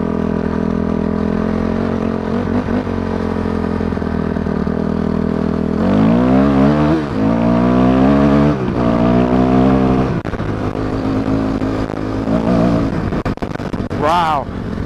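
A Yamaha YZ400 dirt bike engine drones close by and rises in pitch under hard throttle, then falls again. The exhaust note keeps running throughout the clip, and a voice speaks over parts of it.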